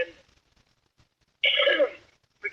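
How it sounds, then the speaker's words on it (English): A single person's cough bursts out loud and close in the middle, after a short burst at the start, with a quiet gap and then another brief rough throat sound at the end. "forgive me, I have a cough"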